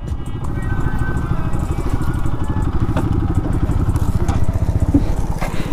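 An RS 200 motorcycle with a loud aftermarket exhaust rumbles steadily nearby, its deep throbbing firing pulses continuous and rough with some mechanical clatter, no speech over it.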